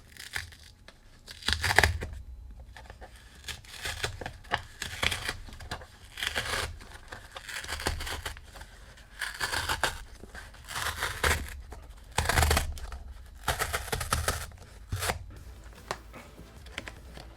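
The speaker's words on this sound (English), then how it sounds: "So what we do here is peel this open." Packaging for a Google Pixel 5 phone box is peeled open in a series of crinkly tearing and rustling bursts, close and fairly loud, with short pauses between them and no talk.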